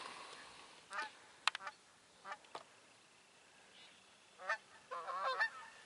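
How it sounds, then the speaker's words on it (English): Geese fly overhead at sunset, giving scattered honks at irregular intervals, some sharp and some in short runs, fairly faint against a quiet outdoor background. "Geese, shadow geese."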